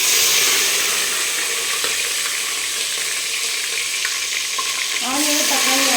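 Onions hit hot oil with ghee for ghee rice, a loud, steady close-up sizzle that flares briefly near the end as more goes in or is stirred.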